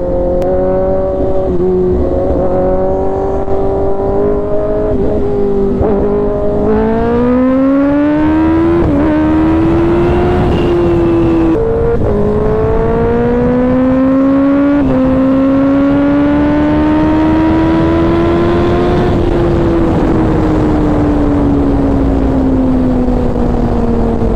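A Kawasaki ZX10R 1000cc sport motorcycle accelerating hard in first gear on a highway, its loud engine whine climbing steadily in pitch through repeated surges over a constant roar of wind and road noise.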